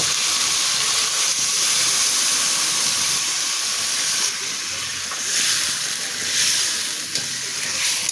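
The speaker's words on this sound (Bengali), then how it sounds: "আমি এখন ঝোলের পানি দিয়ে দেব" Water hits a hot pan of fried masala for a hilsa and flat bean curry gravy, setting off a loud, continuous steamy hiss and bubbling sizzle that swells and eases over several seconds.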